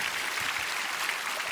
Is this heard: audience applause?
yes